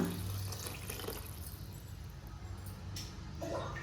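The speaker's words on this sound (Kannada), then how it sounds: "ಇದಕ್ಕೆ ನೀರು ಆ್ಯಡ್ ಮಾಡೋಣ." Water runs steadily into a pot of mixed sweet corn pulao ingredients for a few seconds, a continuous splashing pour with a faint low hum behind it.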